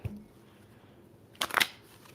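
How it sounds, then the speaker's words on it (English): Tarot cards being shuffled by hand, a quiet near riffle burst that comes after a moment of near silence, brief and crisp. "Okay, a couple more shuffles."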